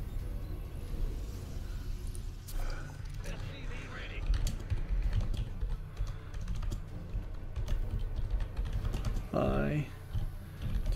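Computer keyboard typing during a StarCraft 2 co-op session while hotkeys are rebound, a run of fast key clicks sitting under game sounds and intermittent talking.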